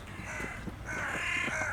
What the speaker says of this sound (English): what we've just heard is, indubitably, the croaking of birds